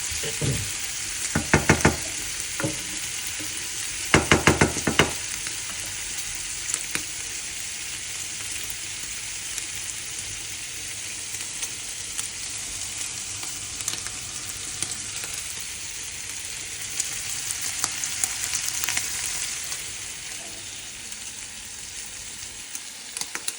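Lardons fry in a pan with a steady, close crackling sizzle. Bursts of utensil scraping and stirring break through near the start and again later, and no voices are heard.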